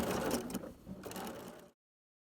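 Sewing machine stitching around the edge of an appliqué with blue thread, a quiet, close mechanical whirring burst that stops abruptly, followed by silence.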